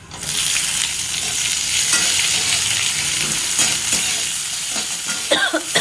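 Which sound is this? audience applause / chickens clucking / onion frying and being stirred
onion frying and being stirred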